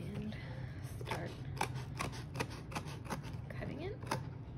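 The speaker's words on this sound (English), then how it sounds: "Just pick one side, work your scissors in, and start" Scissors cutting through cardboard as an ice candle mold is cut out, a series of sharp, crisp snips at an uneven pace close by, heard under a person talking.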